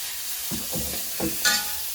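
Onions and chilies frying together in a pan for a breadfruit stir-fry, a soft sizzle with a few stirring scrapes and a brief clink near the end.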